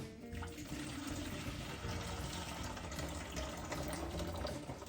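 Steady rushing of hot water pouring continuously into a vessel for brewing guava mead, a dense, even splashing stream lasting throughout with no talking.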